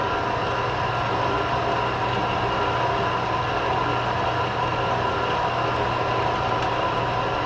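A 4x6 band saw runs steadily after blade tracking adjustment, a constant loud mechanical hum and whir with no pauses, close by and alone.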